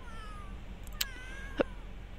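A cat meows in The Sims 3, a couple of short, faint calls over a low steady game background hum.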